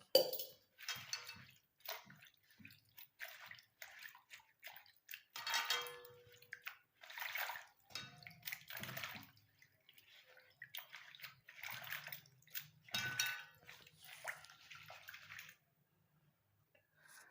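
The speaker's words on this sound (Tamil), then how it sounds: "இந்த மாதிரி நல்லா தண்ணியில் அலசணும்" Fresh karpooravalli leaves are swished and rinsed by hand in a vessel of water, giving faint, intermittent splashes and sloshes in short bursts with quiet gaps between them.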